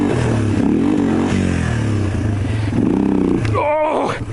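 A Yamaha XT 250 single-cylinder engine revs up and down close by, loud and rough, with a couple of throttle blips rising and falling over a few seconds.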